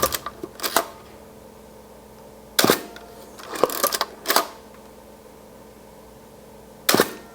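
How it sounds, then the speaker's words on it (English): Four sharp, loud mechanical clacks of a medium format 120 film camera shutter from the 1980s, spaced irregularly, with near silence between them. "Very distinctive shutter sound. Very loud."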